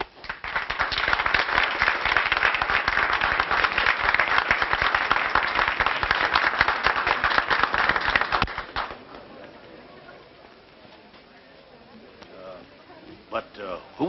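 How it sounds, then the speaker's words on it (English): Theatre audience applause in a 1935 period setting, a loud, dense burst of clapping lasting about eight seconds before cutting off abruptly, followed by quieter room sounds and faint talk. "Who was that applause for just as I came in?"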